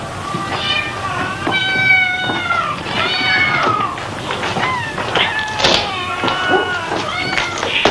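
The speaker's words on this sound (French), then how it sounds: "Vous avez fait peur à mes chats." Several house cats meow and wail near at hand, with overlapping rising and falling cries, some drawn out, mixed with soft thumps and a little background voice in a French film scene.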